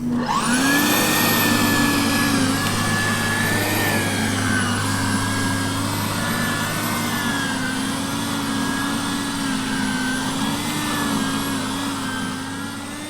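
A Sun Joe electric lawn dethatcher and scarifier gives a loud, steady motorized whir running continuously like a large vacuum, with a sustained mechanical hum and slight pitch wavering, no talking.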